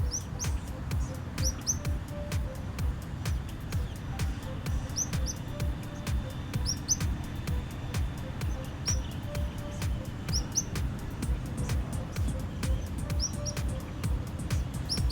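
Hungry tropical kingbird chicks at a nest in Panama, with short repeated high chirps recurring in clusters over a steady low background hum, fairly faint and with no talking.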